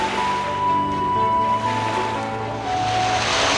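Ocean waves washing in a continuous broad surf roar with gentle surges, fairly loud and close, overlaid by a sustained musical tone.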